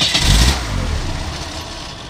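A 1985 Ford Mustang Fox-body engine fires up with a loud initial roar and rev that settles into a lower, steady rumble, heard close with no talking.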